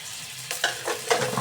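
Meat is stirred in a pan with turmeric powder, salt, spices and a splash of water. Close spatula scrapes and soft sizzling come in short bursts with no talking.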